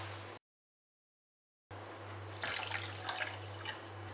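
Water poured into sugar in a kitchen pan for a syrup, a steady close splashing pour that starts after a brief silence and carries on to the end with a low hum beneath.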